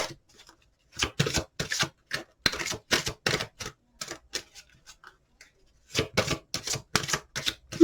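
Crisp, rapid riffling of tarot cards in two bursts separated by a short pause, close and fairly quiet, no voices.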